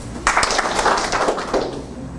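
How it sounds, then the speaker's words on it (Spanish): A short burst of audience applause at a driver physical and psychological health training session starts abruptly, holds for about a second and a half of dense clapping, then fades to room noise. "A ver, un aplauso."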